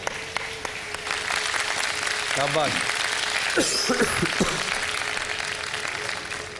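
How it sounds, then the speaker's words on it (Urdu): A studio audience claps through a live Ramadan iftar television show. The applause is a steady, moderately loud wash with a voice talking over part of it. "اس کے لیے بھائی بہت سی تالیاں ہونی چاہیے بھائی"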